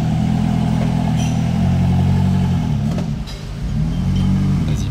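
A Koenigsegg Jesko hypercar pulls away near the Monaco streets, its deep engine droning loud and close, briefly dipping and swelling again as it rolls off, with no voices over it.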